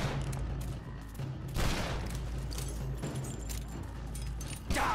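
Rapid gunfire in the video game Shadow Warrior, bursts of loud repeated shots with metallic clatter and booming impacts, close and dense across the whole stretch.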